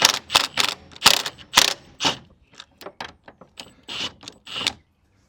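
A ratchet clicks in quick, uneven bursts while loosening the gearbox mount bolts on a forged, high-power Ford Escort RS build. The clicks are close and crisp, thinning out toward the end.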